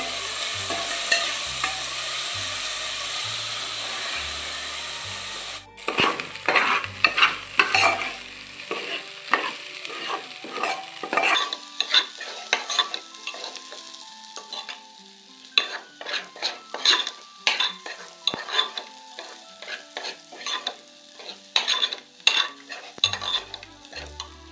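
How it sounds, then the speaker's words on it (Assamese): Rice being stir-fried in a pan for pulao, with steady scraping and stirring clicks of a utensil against the pan over a soft sizzle, continuing alone without any talk. "চাউলবোৰ অলপ সময় ভাজিব লাগিব।"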